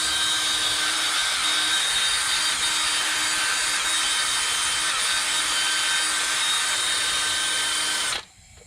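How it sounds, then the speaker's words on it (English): A wire brush, likely power-driven, scrubs the 45-degree chamfer on a stubborn vehicle hub in a continuous, close, steady gritty whir for about eight seconds before cutting off abruptly. "I'm going to take a wire brush and clean up this 45-degree chamfer you see right here."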